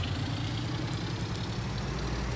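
Tractor engine idling in the farming game Farming Simulator 19, a steady low rumbling drone with constant level and no variation, heard alone.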